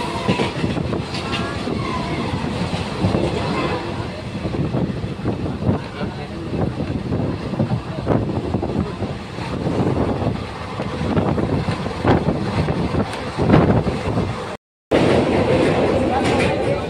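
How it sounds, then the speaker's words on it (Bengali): The Howrah–Rampurhat train runs at 120 km/h with a dense, loud rumble, rattling carriages and wind rush, continuous apart from a brief dropout, with a voice heard faintly beneath. "ট্রেন এই মুহূর্তে চলছে 120 কিলোমিটার প্রতি ঘন্টা স্পিডে।"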